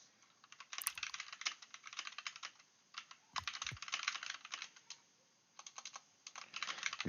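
Bursts of rapid typing on a computer keyboard, close and clear, with the clatter of keys coming in several runs separated by short pauses and a few heavier thumps.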